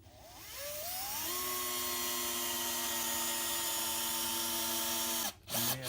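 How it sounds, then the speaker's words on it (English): An 18-volt Bosch cordless drill drives a 3-inch screw into wood: a steady high whine that ramps up, holds for several seconds, then stops with a brief clatter, close and clear. "Today we have an 18-volt Bosch drill that I just purchased."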